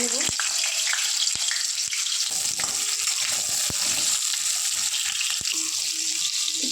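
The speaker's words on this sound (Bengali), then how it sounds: "লবণ আর হলুদ দিয়ে আলুটা সুন্দর করে ভেজে নিতে হবে লাল লাল করে" Potatoes frying in hot oil in a wok, a loud, dense sizzling hiss with occasional sharp clicks and stirring scrapes continuing steadily throughout.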